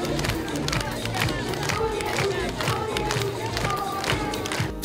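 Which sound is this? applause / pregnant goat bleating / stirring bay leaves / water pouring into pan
applause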